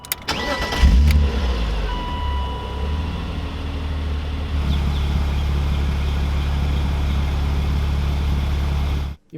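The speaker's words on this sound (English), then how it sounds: "having a BMW inline 6, it sounds fantastic as well" BMW Z3 M Roadster with its inline-six engine cranks and catches, then settles into a steady, deep idle, close and loud, ending abruptly.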